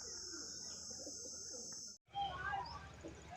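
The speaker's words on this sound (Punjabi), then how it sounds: "ਇੱਕ ਕਬੂਤਰ ਹੋਰ ਨੀਵਾ ਆਇਆ" Pigeons at a pigeon club race in Punjab, low-flying birds giving soft coos and chirps amid faint outdoor ambience, with a steady high insect-like whine in the first half and a brief cutoff before the birds return.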